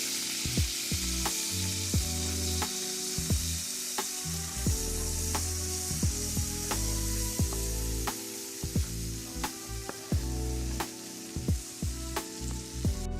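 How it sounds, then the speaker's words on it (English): Butter and all-purpose flour roux in a pan, sizzling steadily while a spoon or whisk clicks and scrapes against the pan in an irregular rhythm, close and fairly quiet. "We're going to add in our 3 tablespoons of all-purpose flour. You want to just go ahead and continue to stir."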